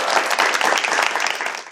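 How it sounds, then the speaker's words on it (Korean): A lecture audience bursts into dense, sustained applause, many hands clapping together loudly and evenly before starting to taper off at the end. "다시 한번 박수 부탁드려요."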